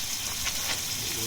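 Mushrooms sizzle in chilli and garlic butter in a pan with the heat turned off, a close, steady, bright frying hiss with tiny crackles, outdoors during a windy camping trip.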